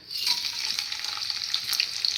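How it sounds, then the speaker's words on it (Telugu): Seeds for tempering sizzle in hot oil in a pan, a steady close crackle with small bright pops running throughout. "ఇప్పుడైతే నూనె కాగిపోయింది మనం తాలింపుకు రెడీ చేసుకుని అయితే వేసేసుకుందాం"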